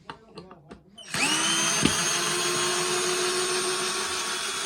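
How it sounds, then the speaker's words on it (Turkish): A cordless drill runs in reverse to back a screw out, a few short taps and clicks first, then a steady high motor whine that holds at an even pitch, close and fairly loud. "Görüyorsunuz hiç zorlanmadan vidamızı çok rahat bir şekilde yerinden söktük."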